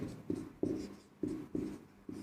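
Chalk strokes scrape across a classroom board in a quick series of about six short, distinct scratches while numbers are written during a maths lesson, close and fairly quiet.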